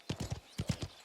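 Horse hooves clip-clop in a quick, close double-triplet rhythm within a video game, Mafia: Terra Madre, with a faint voice barely present.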